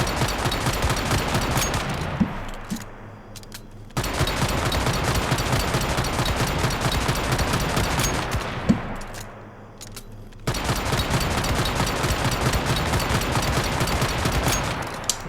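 Rapid automatic gunfire bursts in the survival shooter game Once Human, dense and loud, coming in three long sustained volleys with brief pauses between them.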